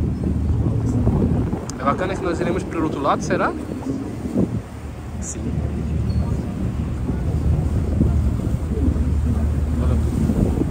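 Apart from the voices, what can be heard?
wind blowing in the face on a Seine river cruise boat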